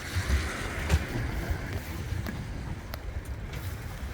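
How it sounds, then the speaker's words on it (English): Strong wind from a winter storm buffets the microphone outdoors in Kendal at night, a low, gusty rumble with occasional bumps and rustles. "It's really windy, can't take an umbrella."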